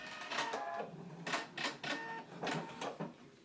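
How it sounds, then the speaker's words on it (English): Sewing machine stitching a 5/8-inch seam allowance on a jacket tie, heard as several short bursts of rapid mechanical whirring separated by brief pauses, fairly close and clear with no talking. "We're going to go ahead and pin there and stitch in a 5/8 of an inch seam allowance."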